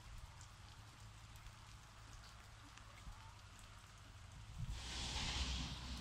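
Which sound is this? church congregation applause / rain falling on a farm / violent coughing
rain falling on a farm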